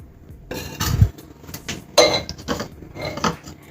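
Bowl handled in a home kitchen while making malai bread custard: several sharp clinks and knocks of dishware and utensils, close and clear, in short irregular bursts.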